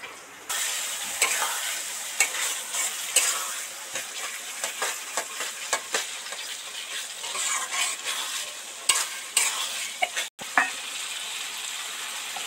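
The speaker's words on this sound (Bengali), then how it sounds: "মশলা থেকে তেল ছেড়ে গেছে, তেলগুলো কেমন উপরে বুজবুজ বুজবুজ করে উঠছে।" Chicken curry masala fries in a pan with the oil separating and bubbling to the surface, a steady close sizzle broken by irregular stirring scrapes and ticks, with no voices.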